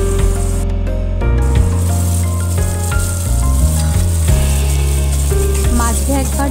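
Potatoes fry in oil in a covered pan, giving a loud, dense, continuous sizzle, close up and without pause, with a faint tonal hum running beneath it.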